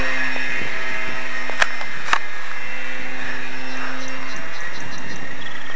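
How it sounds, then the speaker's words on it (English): A slow U.S. Army plane drones overhead outdoors, its engine producing a steady loud tonal hum that holds throughout, with a couple of sharp clicks near the middle and no voices. "You can read the plane when it comes closer."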